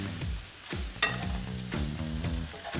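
Baby spinach leaves cook in a hot pan with bacon, a steady sizzle broken by a few close stirring scrapes and clinks.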